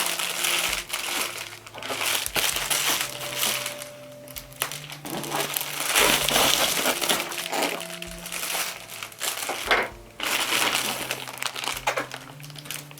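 Plastic bag and bubble wrap packaging around guitar straps being unwrapped, with loud close crinkling and crunching in irregular bursts, continuous and unaccompanied by talk.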